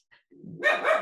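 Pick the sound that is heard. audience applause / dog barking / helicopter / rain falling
dog barking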